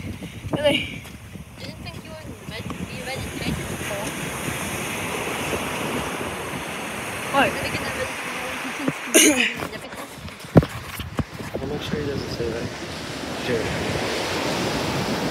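Ocean waves washing up on a beach, a continuous broad surf roar with wind buffeting the microphone, while people talk and walk along the shore.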